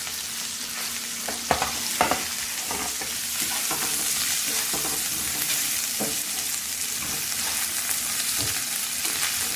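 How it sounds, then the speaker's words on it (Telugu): Green chillies and onions fry in a pan with a steady, loud sizzle, while a spatula knocks against the pan a few times early on. There is no talk. "పచ్చిమిర్చి వేసుకుని తర్వాత ఉల్లిపాయలు వేసి దూరగా అయ్యేంత వరకు మనం ఫ్రై చేయాలి."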